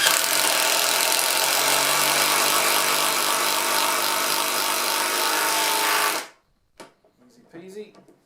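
An impact driver drives a screw into pine, whirring loudly and continuously for about six seconds, then stops abruptly, followed by faint clicks and a brief murmur of voice.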